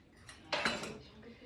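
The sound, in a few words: regular tablespoon scooping salmon patty mixture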